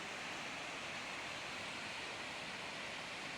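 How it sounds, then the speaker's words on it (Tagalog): Waterfalls roar as a steady, dense rush of water that fills the whole scene with constant broadband noise, with no gaps or voices. "Yun yung waterfalls, oh."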